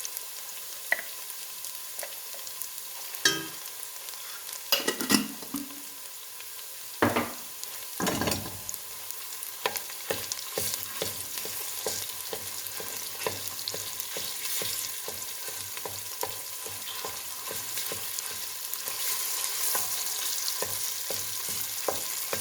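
Homemade tomato paste sizzles steadily in a hot pan while being stirred, with continuous frying crackle and occasional louder scrapes and clacks of the utensil, no voices.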